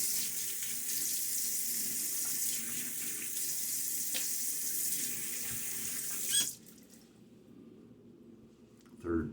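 Tap water runs steadily into a sink while a face is rinsed after a shave with a Timeless 68 open-comb safety razor, a broad close hiss that stops abruptly near the end, leaving quiet room tone and a brief splash.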